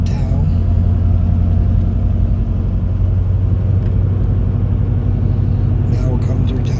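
Steady car engine and road rumble from inside a vehicle cruising into a small town in Belmont County, a continuous low drone throughout with a few faint knocks near the end.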